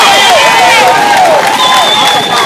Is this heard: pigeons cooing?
no